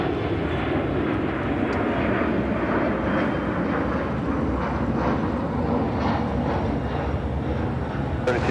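A United airliner passes by at Chicago O'Hare, its engines a loud, steady roar that fills the whole stretch with little change in level.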